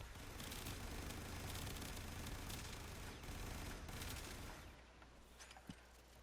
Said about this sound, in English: Crazy fire rate. Got galvanized crosshair. And just annihilate. I mean, this thing is like a Gatling gun.